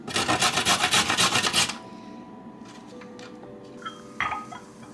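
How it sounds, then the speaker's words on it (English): Organic vegetables being shredded on a grater, a rapid rhythmic rasping scrape up close for nearly two seconds, followed by quieter kitchen clinks and handling noises. "Shredding them for convenience, but also so that they can cook."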